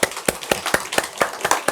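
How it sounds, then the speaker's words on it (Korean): Church congregation clapping in a steady rhythmic beat at a Bible lecture meeting, about eight sharp, evenly spaced claps, close and fairly loud with no talk over them. "박수 한번 칩시다"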